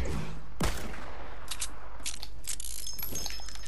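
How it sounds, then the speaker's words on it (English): Gunfire in the video game Fortnite, with one sharp, loud shot near the start and several quicker, lighter shots and clicks after it, all over a steady background rumble of game noise. "He just randomly shooting the no dance sign"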